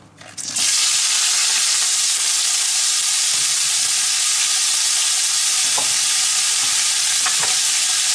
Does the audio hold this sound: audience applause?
no